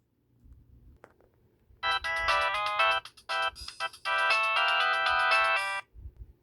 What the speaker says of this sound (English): I'll play a good ringtone off this phone